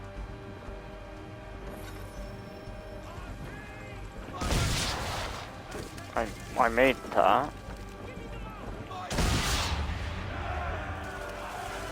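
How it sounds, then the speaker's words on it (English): Swivel gun fire and exploding powder barrels in the video game Assassin's Creed III, heard as loud bursts at the start and near the end, with a clattering stretch of blasts in between, over game music and brief speech. "Now give the swivel guns a turn. More precise. Hit those old powder barrels and light up the sky."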